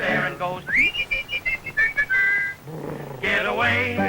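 A cartoon song carries a rising wolf-whistle followed by a run of short bright whistled notes and a falling whistle, loud and up front over music.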